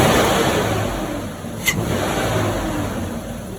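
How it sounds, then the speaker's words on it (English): Pickup truck engine with a new K&N air filter revs steadily, a loud continuous motor drone with a brief sharp click partway through and no talking. "Rev it up."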